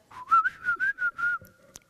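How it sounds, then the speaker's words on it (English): A solo voice sounds a sung glottal pitch with a whistle layered over it in contemporary vocal composition research, a close, clear run of about six short whistled pulses that rise and hold, then stop. "it is a normal glottal pitch plus a whistle"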